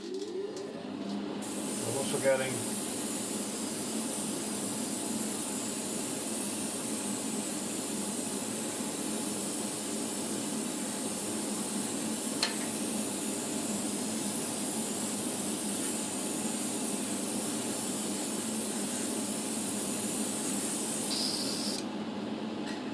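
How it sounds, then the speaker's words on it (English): Spray booth running while matte varnish is sprayed on scale model metal plates, giving a steady, loud airy hiss that holds for about twenty seconds, with a brief bit of speech early on. "Turning on the spraying booth."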